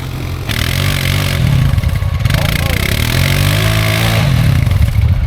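A Can-Am G3 ATV engine revs hard and loud through thick mud, its roar rising and falling close up while people talk over it.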